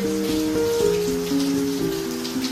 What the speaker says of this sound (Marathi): आणि हे आहे पागोणीचं पाणी